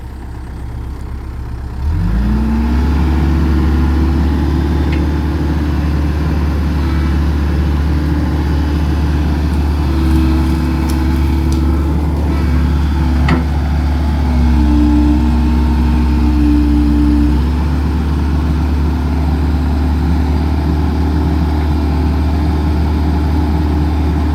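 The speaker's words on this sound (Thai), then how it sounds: "สียแบ่งติดเครื่องเรียบร้อย" An engine cranks, catches and settles into a loud, steady, close idle that drones on with small shifts in pitch and no voices over it.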